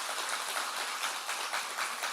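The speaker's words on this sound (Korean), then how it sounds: "우리 장로님과 우리 부부 다시 한번 격려의 박수를 부탁드립니다" A church congregation claps during a Sunday worship service, a dense and even patter of many hands lasting a couple of seconds at moderate volume.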